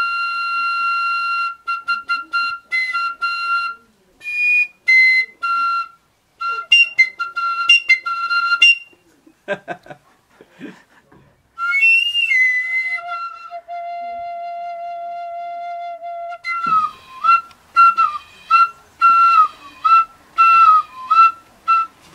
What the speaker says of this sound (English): By sliding this up and down, it becomes a Swanee whistle.